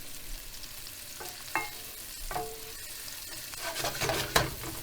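Guanciale, garlic and onion sizzle in a pan, a steady crackling fry broken by several distinct scrapes and clinks of stirring, close and moderately loud, with no talking.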